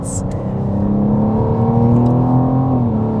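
Tuned BMW M4 Competition G82 accelerating at full throttle, a loud sustained engine roar with pitch climbing steadily through the rev range, close and alone with no voices.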